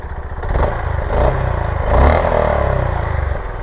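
A new Honda CB350 motorcycle revs close up, its exhaust giving a loud, thumping, pulsing burble that swells and settles over a few seconds.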